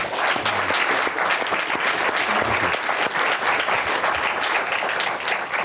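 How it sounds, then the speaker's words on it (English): A room full of people applauds a panel at a national security discussion, a dense and steady round of clapping that holds loud and unbroken throughout. "please join me in thanking them with a round of applause"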